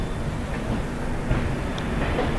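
The Shalimar Puri Express pulls out of Santragachi junction at night, its steady rolling rumble and carriage noise continuous and moderately loud, with no talk.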